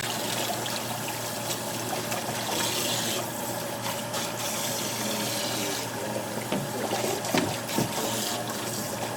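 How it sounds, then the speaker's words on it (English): Water runs steadily from a tap and splashes over a client's hair during a barbershop wash, a soft continuous rush with no talking. "Let the water run."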